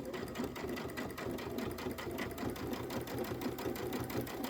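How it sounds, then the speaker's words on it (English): Sewing machine stitching pieces of quilt fabric, a quiet, fast, even mechanical whir with a steady rhythmic pulse running throughout, close and alone with no talk. "I'm going to sew a little bit off my fabric."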